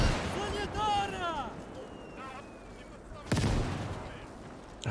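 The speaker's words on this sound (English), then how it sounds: "Oh, those mortars." Mortar fire in the WWII strategy game Call to Arms: Gates, a sudden heavy impact boom past the three-second mark following quieter battlefield ambience with distant whistling and faint chatter.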